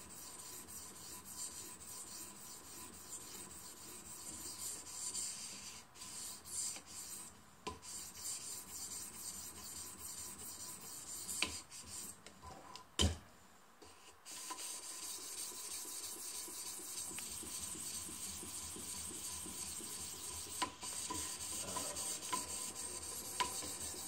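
A knife blade being refined on a TSPROF KO3 guided sharpener, with steady rasping strokes of the stone along the edge, quiet and close, repeating in a fairly even rhythm with brief pauses.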